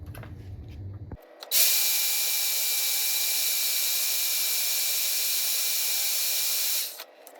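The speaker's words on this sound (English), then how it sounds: "I was only able to get through so far with the bandsaw" A bandsaw cuts through the worn steel blade of a Case 850B dozer, a loud steady high whine starting abruptly after a second of quieter shop noise and running evenly for about five seconds before stopping.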